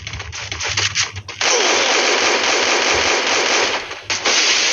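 An explosion in the Free Fire video game, loud bursts of crackling blasts, then a sustained roaring noise that fills most of the stretch, briefly dropping out near the end.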